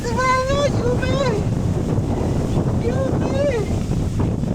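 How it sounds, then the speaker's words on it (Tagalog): Strong wind gusting during rain, a constant loud rushing roar, while a person shouts calls over it twice. "Lakas ng hangin na!"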